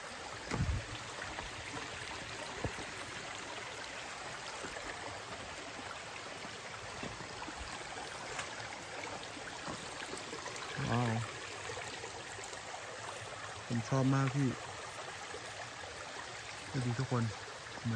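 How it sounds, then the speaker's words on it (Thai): Water flowing through a normally dry stream bed, a soft continuous trickling wash, faint and steady, with a voice cutting in briefly a few times near the end. "แต่ครั้งนี้น้ำไหลผ่าน ซึ่งมันดูธรรมชาติที่สุดทุกคนดู"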